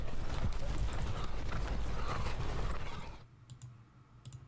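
Chevaux Légers cavalry horses in a Napoleonic battle video game make a dense clip-clop of trotting hooves that fades out after about three seconds, leaving faint clicks.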